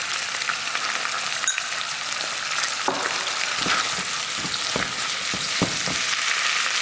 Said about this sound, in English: As the garlic's starting to soften, we're also going to add some capers.